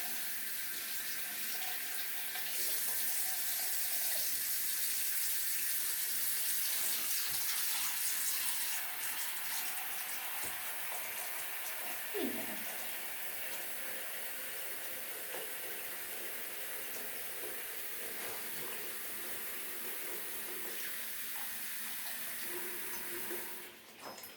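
Warm water runs steadily from a tap into a basin for bathing a small snake, a continuous hissing splash close by with faint handling clinks and no talk.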